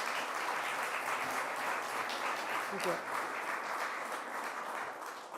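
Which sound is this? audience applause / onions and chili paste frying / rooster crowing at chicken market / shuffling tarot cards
audience applause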